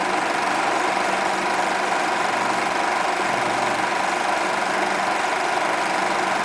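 Atlas rocket vernier and booster engines roar in a static test firing at Edwards Rocket Base in California's Mojave Desert, a loud, steady, unbroken broadband rumble sustained throughout.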